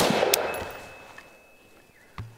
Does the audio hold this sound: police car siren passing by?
no